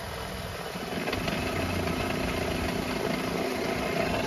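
Car wheel hub bearing humming as the raised wheel spins in second gear with the suspension unloaded, a steady broad drone with low rumble, continuous and fairly loud, no speech.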